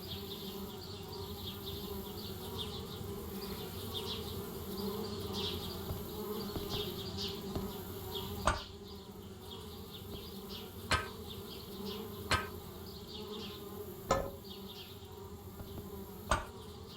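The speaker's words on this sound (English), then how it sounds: "Darn bees, trying to move into our tree house." Bees buzz continuously around a tree house in an adventure game, a dense steady drone with several sharp clicks over the second half.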